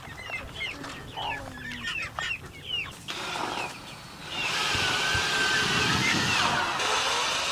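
Several chickens clucking and chirping close by in quick irregular bursts, followed by a loud steady mechanical whir that drowns them out.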